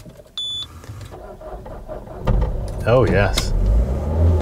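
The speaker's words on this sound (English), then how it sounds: "Should we fire her up?" Citroen C4 Picasso engine cranking and catching after earlier failed attempts, a rough rising rumble joining the idle midway through, with a short electronic chime at the start and someone speaking briefly over it.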